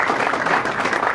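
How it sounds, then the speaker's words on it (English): A magic-show audience claps for a volunteer: a brief, even burst of many hands together, fairly close and sustained throughout with no pauses. "Round of applause."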